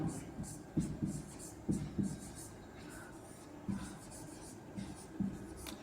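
Chalk or marker scratching and tapping on a classroom board during a Class 10 physics lesson, in short irregular strokes with soft clicks, fairly faint, with a teacher's voice audible under it.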